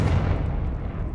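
A Confringo fire spell blast in Hogwarts Legacy hits as a short, heavy low boom with a rough, sustained rumble that fades quickly.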